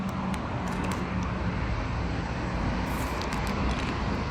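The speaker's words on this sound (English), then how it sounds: "There's a lot of cars on there and wind noise." Car traffic noise on a street at night, a continuous broad roar of passing vehicles mixed with wind buffeting, fairly loud and steady.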